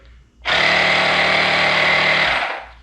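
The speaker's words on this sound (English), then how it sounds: "I'll turn it right back off so you guys can hear what the motor sounds like" A loud, steady electric motor whine from the pump of a Neburia E Foam 2 foam sprayer starts abruptly, holds a constant buzzing drone for about two seconds, then cuts off.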